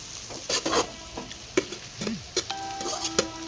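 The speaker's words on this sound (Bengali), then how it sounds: "কিছুক্ষণ নেড়ে দিলেই মোটামুটি ফ্রাইড রাইস রেডি" Fried rice stirred in a pan with a spatula, with scraping strokes and light clinks over a soft frying sizzle, close and moderately loud.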